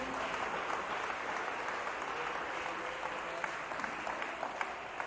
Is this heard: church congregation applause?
yes